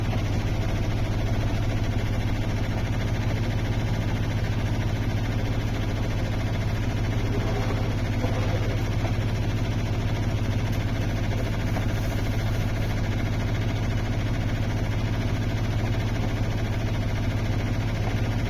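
Auxiliary engine of a sailboat motoring at sea in light wind, a steady low droning hum with constant vibration running unbroken and fairly loud throughout.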